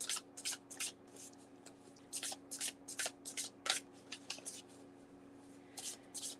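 A deck of Ghost Tarot cards shuffled by hand, close and soft, in repeated short bursts of riffling and sliding over a low steady hum, with no talking.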